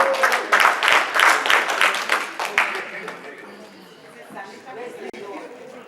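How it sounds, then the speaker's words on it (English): Audience applause for a speaker at a conference afternoon session, a burst of many hands clapping that peaks early and then fades out over a few seconds, with some chatter beneath. "Please give her a big round of applause."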